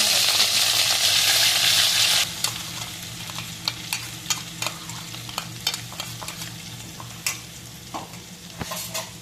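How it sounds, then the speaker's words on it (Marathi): Mustard seeds and asafoetida fry in hot oil for vada pav, a loud steady sizzle at first that drops into quieter crackling with scattered sharp pops and clinks. "मोहरी तळतळती आहे"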